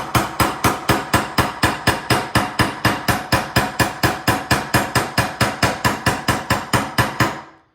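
Steady, evenly spaced hammer strikes land on a silver wire-wrapped pendant, around thirty sharp metallic taps in quick rhythm, close and clear with no talking, ending abruptly.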